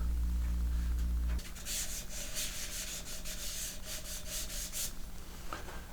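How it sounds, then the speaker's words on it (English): Sanding paste rubbed by hand around a turned wooden box on a lathe, soft scratchy rubbing strokes in short bursts after a brief low hum, fairly faint and close, with no talking. "with a sanding paste, so I'm going to apply a little bit around the whole piece"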